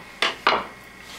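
French toast dropped into a pan, two quick clattering metallic knocks close up, then quiet.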